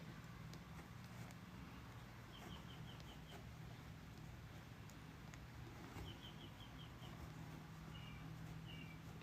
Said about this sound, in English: The birds in the back.